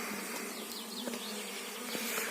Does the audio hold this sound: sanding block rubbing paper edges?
no